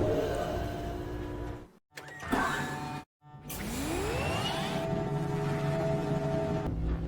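Exhaust-like mechanical rushing in the Myst Selenitic Age maze, heard twice after brief gaps, a steady droning hiss with a rising sweep, fairly quiet and alone.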